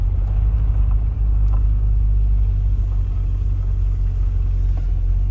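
A Ford Thunderbird driving on a farm road, a steady deep engine rumble and road noise heard from inside the car, smooth and unbroken with no voices.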